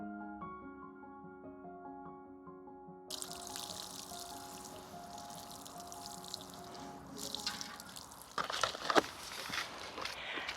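Water pours and trickles onto potted flower bulbs outdoors in a small garden, a steady splashing stream at moderate level, with a few footsteps and a louder gush near the end, preceded by a short stretch of music.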